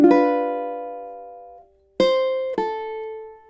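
Measure 8 of a song on ukulele: one plucked note rings out and decays for over a second, then after a short silence two more notes follow in quick succession, clear and close, with no talking.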